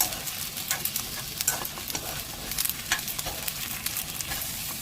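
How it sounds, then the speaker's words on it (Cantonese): Udon noodles mixed with half-cooked beaten egg are stir-fried in a hot pan, making a close, busy sizzle with constant scraping and tossing clatter throughout. "將啲烏冬同啲蛋液撈勻"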